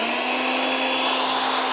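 A leaf blower runs steadily at full power through the whole stretch, a loud constant whine with a low hum underneath and no voices.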